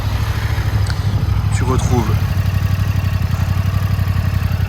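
Yamaha R7 sport motorcycle engine firing up and settling into a steady, throbbing idle close by, with someone speaking over it.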